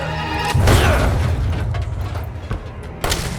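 A loud, heavy boom erupts and rumbles off, followed by a sharp thud, with earlier mechanical noise; a car explosion in the video game Resident Evil 7.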